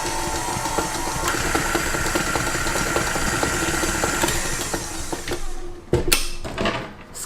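An electric mixer whisks Swiss roll batter in a bowl with a steady close motor whir and rattling beaters, then slows and stops with a few clattering knocks near the end.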